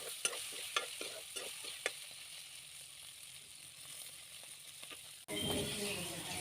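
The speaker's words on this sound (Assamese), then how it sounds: "ইয়াত দেখিছেনে, পনীৰখিনি ৰঙচুৱাকৈ ভাজি লৈছোঁ।" Paneer cubes frying in refined oil, a steady close sizzle with several sharp scraping stirs early on, then a louder burst of hissing toward the end.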